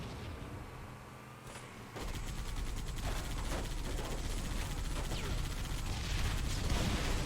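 Rapid bursts of gunfire from a vehicle-combat video game, steady and fairly loud throughout with dense crackling shots and a mechanical rumble underneath, getting busier toward the end.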